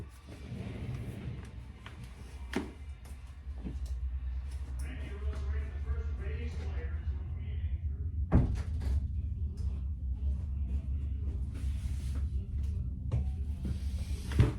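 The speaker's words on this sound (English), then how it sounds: "I'm gonna have to go close the door." A door is closed indoors amid quiet room noise, with a couple of soft thuds and latch clicks and a low background hum.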